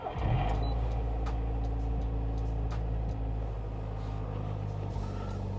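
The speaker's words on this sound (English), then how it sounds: "So let's get to the first start of the car." A Nissan March K11 engine starts with a key, and a steady low rumble and idle run loudly throughout, with harmonic engine drone and no talking.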